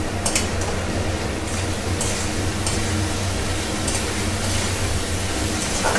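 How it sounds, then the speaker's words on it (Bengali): Chopped onion and garlic fry in hot oil with salt and turmeric in a pan, a loud, dense, continuous sizzle close up with occasional brighter crackles. "দিয়ে এবার আমি আগে একটু ভেজে নেবো পেঁয়াজ রসুন দিয়ে।"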